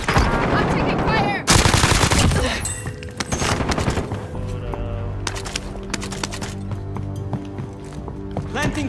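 Video game gunfire: rapid bursts of automatic shots and scattered single cracks, loud and close, mixed with excited shouting voices and game sound effects.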